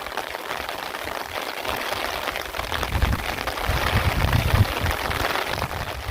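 Heavy storm rain pouring down outdoors during field work, a dense, steady broadband hiss that swells slightly toward the middle and continues unbroken, with no voices.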